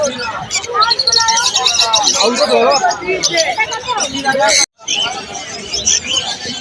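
Pineapple conures and many other birds chirp and squawk busily at once amid the crowded hubbub of Galiff Street market in Kolkata, with people talking in the background; the sound briefly cuts out near the end.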